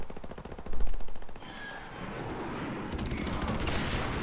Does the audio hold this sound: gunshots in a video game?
yes